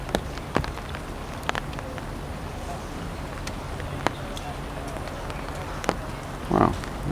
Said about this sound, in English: The rain has almost eased off now.